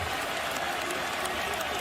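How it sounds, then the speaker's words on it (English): Celtics fans in a packed NBA Finals arena applaud their starters, a steady wash of clapping and crowd noise under a commentator's voice. "The Celtic fans starting their applause for their starters who gave them an unbelievable run."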